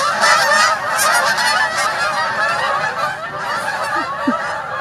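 A large flock of geese honks loudly and without pause, a dense, overlapping chorus of calls close by that carries through the whole stretch.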